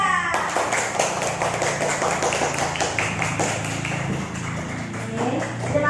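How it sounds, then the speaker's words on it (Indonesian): A classroom group of students claps for group 3 after a presentation, a dense burst of many hands clapping at once, close and loud, with a few voices and chatter mixed in and a brief fade near the end. "kasih tepuk tangan untuk kelompok 3"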